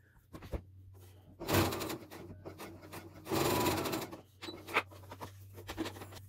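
A sewing machine stitches fabric to ease it in like a sleeve cap, running in short intermittent bursts of a second or less between fabric rustles and handling clicks, close and fairly quiet, no talking.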